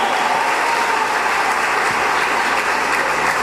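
Church congregation breaks into loud, dense applause filling the room, a continuous close-sounding clatter of many hands with no talk.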